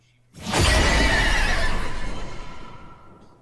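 Horse neigh created for Warframe sound design with a natural, lightly processed texture: a single loud, sustained whinny that swells quickly and fades over a few seconds, heard alone.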